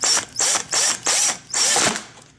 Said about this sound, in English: place the drill on top like so, and then set it to go forward